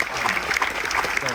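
An audience claps at a military tribute gathering aboard the Carnival Dream cruise ship, a fairly close, busy patter of hands with individual claps standing out, steady throughout.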